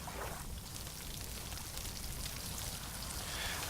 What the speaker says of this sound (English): Oh, and it's raining as well.